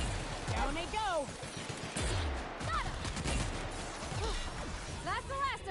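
Grenade launcher fire and blasts in The Outer Worlds, a series of sharp explosive bursts and crashes spaced through the passage, with whooshing sweeps and mechanical clatter between them. A voice talks over parts of the combat.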